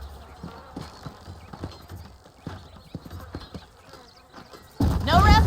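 Horse hooves clip-clop in a steady trotting rhythm in the Western video game Red Dead Redemption, crisp repeated knocks at moderate distance, ending with a loud close whinny and a surge of louder game sound.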